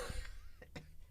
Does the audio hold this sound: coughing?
yes